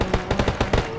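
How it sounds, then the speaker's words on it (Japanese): Rapid bursts of gunfire from the battle-royale mobile shooter Knives Out (Kōya Kōdō), about seven sharp shots in quick rhythm over roughly a second, fairly loud with a steady game tone underneath. "もう北町めっちゃ銃声してる"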